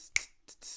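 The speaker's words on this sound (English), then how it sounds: "snapping your fingers" A single sharp finger snap sounds up close, followed by a couple of softer snaps or finger slaps against a palm in a quiet room.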